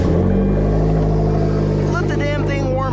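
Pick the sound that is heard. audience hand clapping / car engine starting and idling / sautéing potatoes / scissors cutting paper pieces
car engine starting and idling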